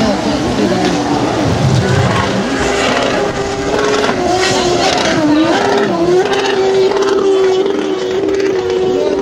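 A red Yamaha Blaster ATV fitted with a CD engine races in an exhibition event, its high-pitched motor droning steadily and shifting pitch as it rides, loud and continuous with voices over it.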